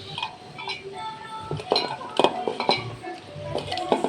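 Fried fish roe crushed in a pan with a utensil for a Bengali chutney: repeated scraping clinks and taps of metal against the pan, uneven and close, over a low background.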